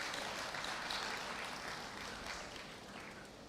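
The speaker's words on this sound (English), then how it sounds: "You feel free to clap. Feel free to clap." Continuous applause from the audience at a St. Catherine High School graduation ceremony, a dense steady patter of many hands that fades slightly toward the end.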